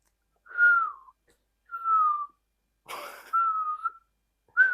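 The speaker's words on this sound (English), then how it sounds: "I just made the thing because I couldn't actually whistle" A person whistles four separate steady tones at a moderate pitch, each lasting about half a second, with short pauses between them, in a quiet indoor setting with no talking.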